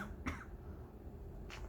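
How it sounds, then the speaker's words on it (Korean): One short, sharp cough, then a second fainter cough about a second later, in a quiet indoor room with no talk around them. "미안합니다, 기침이 나오네요."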